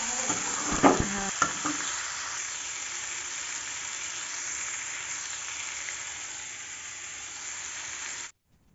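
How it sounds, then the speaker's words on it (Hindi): Vegetables with spices fry in a pan on a low gas flame, giving a steady soft sizzle and hiss, with a few sharp stirring clinks near the start before the sound cuts off. "मैंने सब्जी में डाल दिया मसाला और इसमें मसाले को मिला दूँगी और मिला करके मैं धीमी गैस पे इसको रख दूँगी।"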